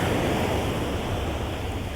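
Ocean waves crash against coral rocks at Bias Tugel beach, making a loud, constant roar of surf and spray with no pause.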